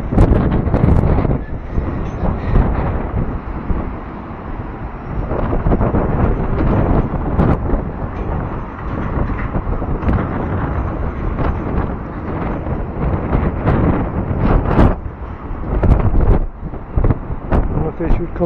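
Strong wind buffets the microphone on a seaside walk in Blackpool, a loud, continuous rumbling roar that rises and falls in gusts, with people talking intermittently underneath.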